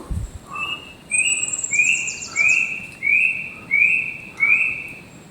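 A bird in a mountain forest sings a series of clear, repeated whistled notes in an even rhythm, close and loud, with faint higher chirps above.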